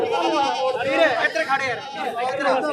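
Goats at a goat fair in Phulewala, Bathinda, bleat close by while people talk and chatter over them throughout.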